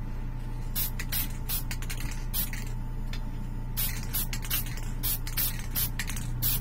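Lacquer spray paint with metal flake going onto a prototype Batman figure in short hissing bursts, with gaps between them, over a steady low hum and no talk.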